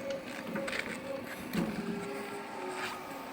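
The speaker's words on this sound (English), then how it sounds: "Motor running now." A Gullco KBM28 plate beveler from around 2017, on a hydraulic pump-up base, runs with a steady mechanical motor hum and faint intermittent clicks, close and continuous, with no talk.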